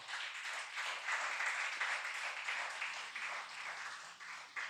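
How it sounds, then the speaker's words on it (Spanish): A church congregation claps for the King, soft, steady applause that sounds distant and fairly faint and runs unbroken for several seconds. "Denle un fuerte aplauso al Rey."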